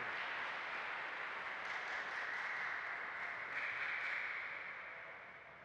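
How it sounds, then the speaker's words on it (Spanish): Applause at a Spanish-language Mass for the communion ministers, a steady wash of clapping from the congregation in a church, continuous and moderately distant, tapering off near the end. "Damos un fuerte aplauso a nuestras ministras de comunión."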